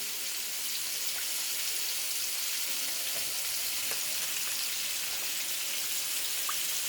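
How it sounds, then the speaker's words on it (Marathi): Fish fries in a pan with a steady, close hiss of crackling oil, carrying on evenly with occasional small pops. "हे आपण ठेवले आहे तळायला।"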